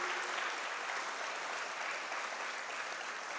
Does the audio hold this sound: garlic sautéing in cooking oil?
no